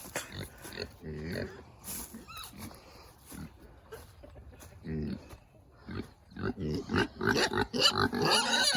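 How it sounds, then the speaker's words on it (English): A pig grunts and squeals repeatedly in bursts close by at feeding time on a farm, with a person talking to it in between. "Hateful pig."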